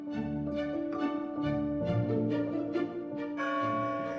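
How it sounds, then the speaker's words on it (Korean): Church bells ring near Sant Felip Neri church in Barcelona's old quarter, a steady run of overlapping peals with a rich sustained hum, heard fairly close and alone without talk. "종소리가 들리는 방향으로 걸어가다 보면 가우디가 사랑했던 산 펠리페 네리 성당과 산 펠리페 네리 광장에 다다릅니다"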